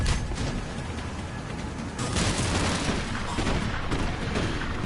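Covering gunfire in Mass Effect 3's Leviathan DLC mission rattles in dense, overlapping bursts with booming impacts, a steady loud barrage lasting the whole stretch and swelling slightly partway through.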